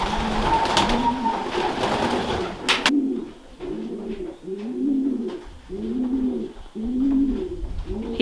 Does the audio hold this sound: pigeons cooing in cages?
yes